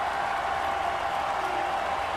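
A crowd applauds and cheers steadily at a marble race, a dense, continuous wash of clapping that holds at an even level throughout, with no voices standing out.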